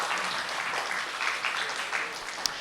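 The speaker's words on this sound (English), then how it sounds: "Let's have a big round of applause for them." Fairly faint, steady applause from a conference audience after a group presentation at a multi-GNSS Asia conference, with a single sharper clap near the end.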